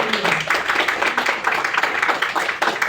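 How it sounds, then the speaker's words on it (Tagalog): A church congregation claps loudly together during a morning worship service, a dense, sustained wash of applause filling the room for a few seconds. "bigyan natin ng malakas na palakpak si Lord sa umaga nito dahil sa inyo"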